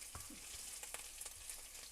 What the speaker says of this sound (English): I love the smell of ginger frying.